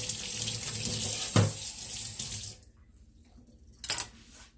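Water runs steadily from a kitchen tap while freshly harvested garden sage is washed beneath it, then the flow stops, leaving a quiet pause before a brief splash near the end.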